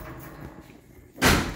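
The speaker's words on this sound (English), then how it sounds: "close the door somewhere" A loud, close door slam on a 1972 Chevy Cheyenne Super 10 pickup truck: one solid thud landing after a stretch of low ambient noise, then a short decay.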